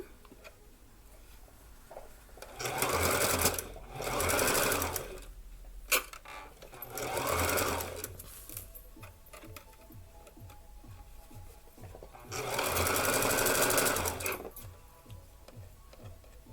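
A sewing machine stitches a blouse hem in several runs of rapid, even whirring, quiet and close, separated by pauses filled with faint clicking.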